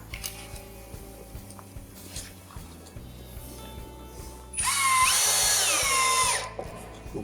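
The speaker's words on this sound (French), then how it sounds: "je mets une vis au milieu, ici" A power drill drives a screw into the wooden floor of a garden shed, one loud whirring burst with rising pitch lasting about two seconds, close up after quieter handling noises.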